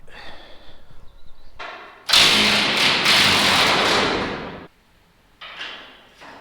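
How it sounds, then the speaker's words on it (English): A Milwaukee M18 Fuel cordless impact driver fitted with a 24mm socket gives one loud, sustained rattling burst of about two and a half seconds, framed by quieter handling knocks before and after. "my Milwaukee Fuel M18 Impact cordless driver"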